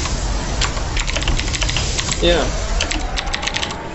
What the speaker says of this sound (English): Azariah typing up a storm